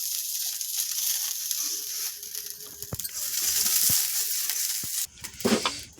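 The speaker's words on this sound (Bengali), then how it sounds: "দেখুন তাওয়াটা, কড়াটা গরম হয়ে গেছে। এই যে মা ব্রাশ করছে তেল।" Oil sizzling in a hot iron kadai as it is brushed across the surface before chita pitha batter goes in, a steady close hiss with a few sharp clicks and scrapes toward the end.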